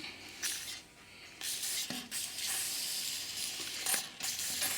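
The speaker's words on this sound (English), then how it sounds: "give it a good spray" Several short bursts of hissing aerosol spray lubricant aimed at a shaft, close by, separated by brief pauses.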